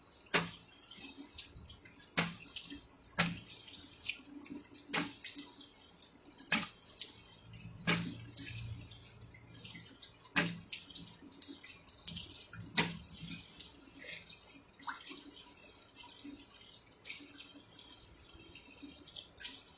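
Tap water runs and splashes into a sink as someone rinses her face, intermittent sharp splashes and drips over a soft running stream, no talking.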